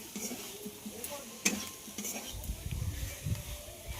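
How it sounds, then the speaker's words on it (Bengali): Pointed gourd and potato being stir-fried in spice masala, a spoon scraping and knocking the pan over a steady sizzle, then heavier rhythmic stirring that thickens toward the end. "মশলার সঙ্গে পটল আলুটাকেও খুব ভালো করে কষিয়ে নিতে হবে।"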